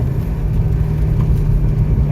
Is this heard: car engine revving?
yes